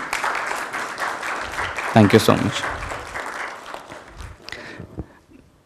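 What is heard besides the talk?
audience applause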